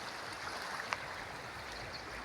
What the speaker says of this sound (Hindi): बहुत पानी का बहाव है।